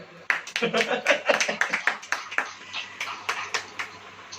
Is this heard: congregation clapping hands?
yes